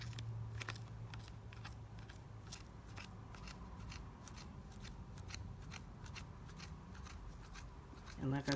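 Scissors slowly cutting through a thick bundle of yarn while making a pompom, a steady run of dense snips and crunchy rustling that stays close and moderately loud across the whole stretch.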